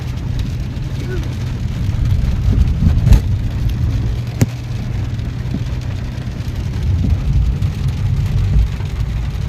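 Steady rain mixed with a car's low road rumble while driving to Saputara in the Dang hills, a constant wash of noise with a few sharp knocks, and voices talking under it.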